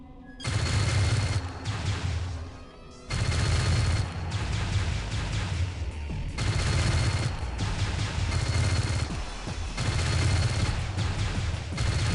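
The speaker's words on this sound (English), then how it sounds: "target its center and fire your cannons at the exposed interior" Rapid bursts of cannon fire from the space combat game Starlancer, loud and continuous volleys in several long stretches separated by brief pauses, with no talking.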